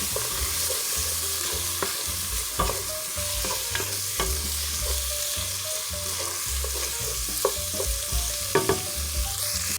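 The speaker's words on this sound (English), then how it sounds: "I'm going to go ahead and sprinkle in my flour. You want to mix that in real well." Flour is stirred into a pot of beef stew: a busy, steady sizzle with frequent knocks and scrapes of a spoon moving through the pot. It is fairly loud and close, with no talking.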